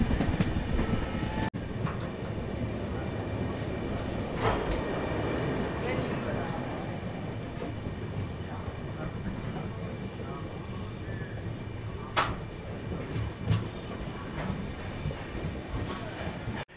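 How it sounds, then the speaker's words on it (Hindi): The Tuticorin Express passenger train rolls along on its run from Bengaluru to Madurai with a steady, loud rumble and occasional clacks heard from inside the carriage, without a break. "ये हमारी ट्रेन फिलहाल पहुंच चुकी है सोलावंधन स्टेशन पे, डिले ही चल रही है ट्रेन"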